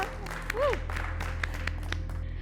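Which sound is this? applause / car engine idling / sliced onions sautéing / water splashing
applause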